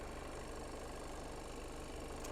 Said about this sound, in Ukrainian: Працює автомобіль рівненько, тихенько